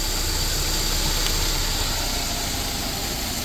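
Car engine with Bosch K-Jetronic mechanical fuel injection idling steadily, a constant low hum with faint vibration, close up and without voices.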